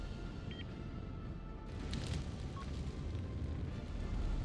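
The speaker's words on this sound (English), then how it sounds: "You're firing your bombs from too far out." Bombs bursting in a naval space combat video game, a dense low rumbling roar of blasts that swells from about the midpoint and rolls on continuously to the end, loud and sustained with no clear separate impacts.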